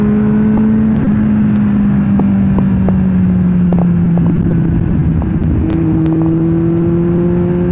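Motorcycle engine droning steadily while riding on the road, a loud, close, continuous hum with wind rush and a slight rise in pitch partway through, no talk.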